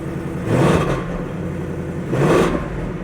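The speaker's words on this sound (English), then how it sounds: "Let me just rev it up a little bit." Close, loud revving of an idling car engine at a dealer-only auction: two swelling throttle blips about a second and a half apart, each rising and falling back to a steady idle hum.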